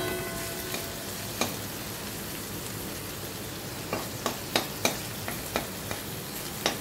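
Sliced ginger sizzles steadily in hot oil in a pan for a paneer tarka, with a bright, even crackle and several sharp spatula taps and scrapes toward the end, close by with no talking.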